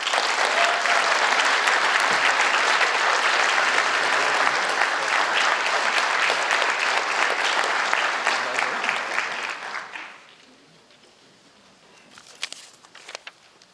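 Sustained audience applause at a high school student achievement awards night, dense clapping from a full room for award recipients lasting about ten seconds before fading to a few scattered claps and quiet room noise.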